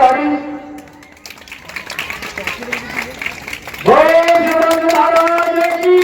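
An audience at a live Ramleela stage performance breaks into applause, building into a steady wash of clapping. Music and amplified voices sound over it, and a sustained tone takes over near the end.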